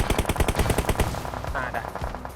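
Rapid automatic gunfire bursts in the mobile battle-royale game PUBG Mobile, loud and close with sharp repeated cracks for about a second, then scattered single shots trailing off.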